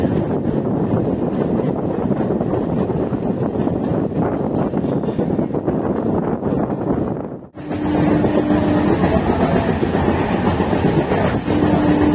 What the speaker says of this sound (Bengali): ট্রেন ঢুকলো মেচেদা